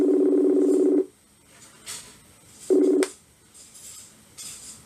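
Outgoing phone call ringing back: two long electronic ring tones, the first about a second long and the second shorter after a pause, with quiet room noise between them.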